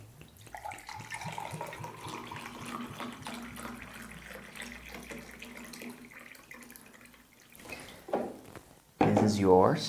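Water is poured into a glass, a gurgling, rising fill that runs under a man's speech before a louder splash at the end.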